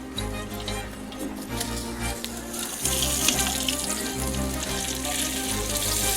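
Oil goes into a hot pan for chicken do pyaza, giving a steady sizzle and crackle with faint clatter, close and moderately quiet throughout.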